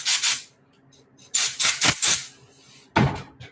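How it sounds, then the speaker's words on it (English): Compressed air blasts through a Honda CB360 motorcycle carburetor during cleaning, giving loud hissing bursts: two short ones, then three more, and a final burst after a pause, with no talking. "Blast it with this compressed air."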